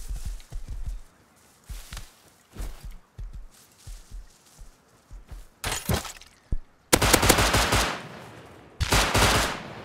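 Gunfire in a firefight in the video game Rust, rapid bursts of close shots in quick rhythm, then louder sustained volleys with crackling impacts toward the end.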